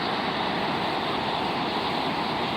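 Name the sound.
waterfall at Carmo do Rio Claro, Minas Gerais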